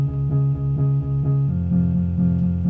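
An Omnisphere guitar-bass synth preset with the Cubase amp simulator switched off plays a clean, repeating low bass line of evenly spaced notes, loud and alone.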